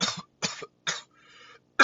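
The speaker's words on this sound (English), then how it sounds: "I'm really under the weather, so I may be coughing a lot during this lesson" A man who is sick with a cold coughs in a rapid series of three sharp, close coughs, then a faint throat sound and the start of another cough, with no talk.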